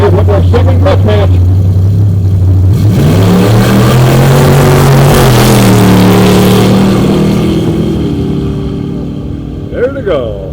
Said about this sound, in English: We'll go watch these two Ford pickups go here